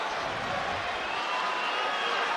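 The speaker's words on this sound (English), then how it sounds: "I have never heard a crowd like this before." A packed arena crowd at a UFC fight roars in a continuous, deafening broadband wall of cheering that stays steady throughout, with voices blended inside it.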